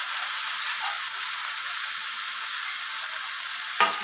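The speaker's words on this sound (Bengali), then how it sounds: "আলুটা দেওয়ার পর আমি কষিয়ে নিচ্ছি আলুটাকে এইভাবে" Fried potatoes being sautéed with spices in a pan for a rohu fish curry with potato, pointed gourd and eggplant give a steady, close sizzle with no break, and a short scrape of the spatula comes near the end.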